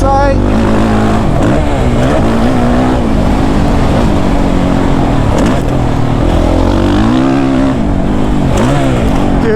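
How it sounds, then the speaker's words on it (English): A Suzuki RM-Z 450 dirt bike engine braking, a loud, continuous close-up engine drone that rises and falls in pitch as the revs drop and the bike slows, with some rider talk under it. "that engine braking is so nice"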